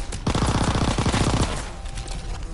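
Rapid pistol gunfire in the World War II shooter Call of Duty WW2, a quick dense burst of shots up close, followed by fainter game noise.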